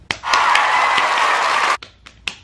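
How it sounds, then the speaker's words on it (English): Hands clapping for about a second and a half in a quick dense burst, close and fairly loud, followed by a few scattered single claps or taps. "Claps for you."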